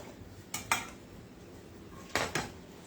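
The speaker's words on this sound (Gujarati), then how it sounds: "તો ચાલો, સૌથી પહેલા આપણે બિસ્કિટને ક્રશ કરી લેશું." Biscuits being crushed in a bowl together with Amul chocolate powder, heard as two pairs of short, sharp clattering crunches spaced well apart against a quiet background.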